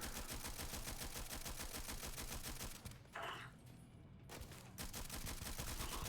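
Rapid automatic fire from the AK000 modded rifle in the game Starfield, a dense, loud stream of shots that cuts out briefly in the middle before resuming.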